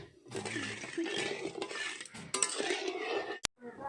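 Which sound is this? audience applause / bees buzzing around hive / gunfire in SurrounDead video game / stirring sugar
stirring sugar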